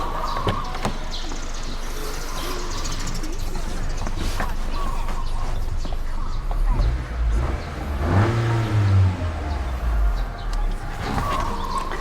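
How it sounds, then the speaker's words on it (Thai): A Honda Civic engine idles steadily, then is revved once, rising and falling in pitch, heard close up with a constant rumbling background. "เดี๋ยวผมเร่งเครื่องยนต์ให้ฟังสักเล็กน้อยแล้วกันนะฮะ"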